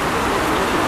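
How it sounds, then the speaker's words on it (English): Rain falls steadily during a walk toward Nkuf, a dense, even hiss that fills the whole moment with no voices. "already this rain is going to frustrate our plans"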